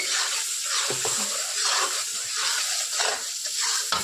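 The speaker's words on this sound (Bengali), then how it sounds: "মশলাটা ভালো করে কষিয়ে নিই।" Spice paste fries in a pan for cabbage ghonto, a close crackling sizzle with scattered stirring scrapes and clinks, no talking over it.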